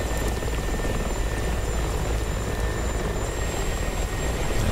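Helicopter engine and rotor drone, steady and loud throughout, as the aircraft lifts off nearly straight up and flies forward with its landing gear still down; no voices.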